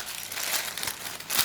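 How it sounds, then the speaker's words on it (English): Barbecued fish wrapped for serving at a Japanese ryokan kaiseki meal is unwrapped, giving close, soft crinkling and rustling of wrapping that swells briefly near the end. "unwrap the fish"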